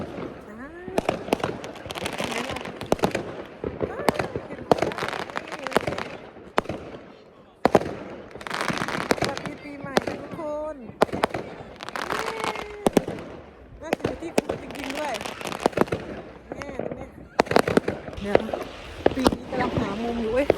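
New Year fireworks in Årjäng, Värmland, Sweden pop and crackle repeatedly in irregular bursts, near and loud, with people talking and crowd noise underneath.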